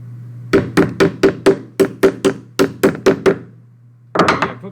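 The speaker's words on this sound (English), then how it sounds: "I'm going to put in 3 staples." A staple gun fires into canvas being stretched over a frame: about a dozen sharp, close thunks in a steady, quick rhythm, a short pause, then a tight cluster of several more, with a low steady hum underneath and no talking.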